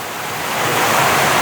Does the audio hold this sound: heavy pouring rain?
yes